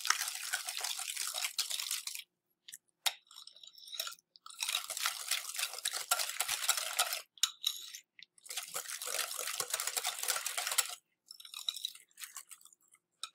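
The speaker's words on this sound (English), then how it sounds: "I'm going to whisk that in to my pumpkin egg mixture." A whisk beats ginger, salt and spices into a pumpkin and egg mixture for pie filling, giving quick rhythmic scraping and clicking against the bowl in several bursts separated by short pauses, close and with no talk.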